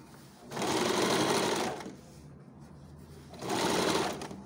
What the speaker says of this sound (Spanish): Sí, vamos cosiendo esto